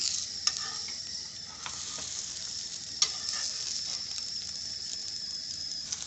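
A vegetable omelette sizzles steadily in a pan on the stove after being flipped, a close, even frying hiss with a few faint ticks and taps from a utensil.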